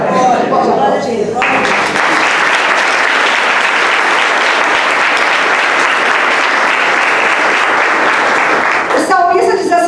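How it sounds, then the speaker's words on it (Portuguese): A church congregation bursts into loud, dense applause that holds steady for about eight seconds, with a voice speaking just before it starts and again as it dies away. "Pode aplaudir."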